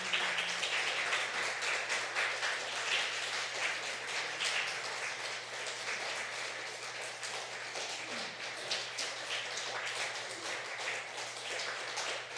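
Church congregation clapping for parents aged sixty and over as they receive gifts, a steady broadband patter of many hands sustained evenly across the whole stretch, moderately loud with a low hum underneath.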